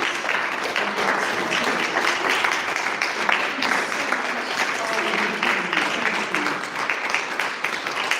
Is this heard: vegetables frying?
no